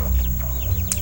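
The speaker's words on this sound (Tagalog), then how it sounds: "Ito yung mga native chicken ko mga ka-idol." Native chickens on a farm, some with fowlpox, cluck in short, close, overlapping calls against a low background hum.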